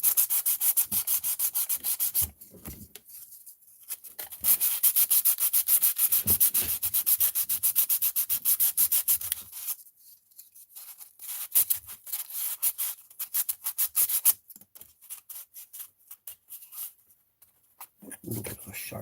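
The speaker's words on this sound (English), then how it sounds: "I should use a harsher sandpaper to make faster work of this." Sandpaper rubs by hand over a battery tray mod for a Redcat Kaiju V1 RC truck, in close, raspy strokes that come in bursts separated by short pauses.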